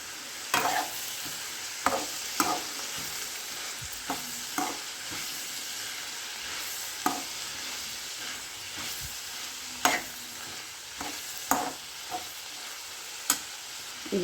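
Curry leaves sizzle in hot oil with onions for a dry potato dish, a constant close frying hiss punctuated by repeated clacks and scrapes of a stirring spoon against the pan, with no talk.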